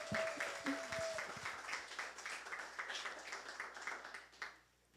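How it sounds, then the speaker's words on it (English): An audience claps and applauds steadily for several seconds, a dense wash of hand claps that fades out at the end. "Let's give him a round of applause."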